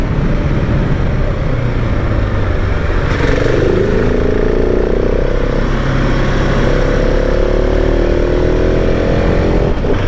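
A 2021 KTM SMC-R 690 motorcycle engine runs loud and steady while riding on a curvy track, with its pitch climbing through acceleration in a continuous roar that fills the whole stretch.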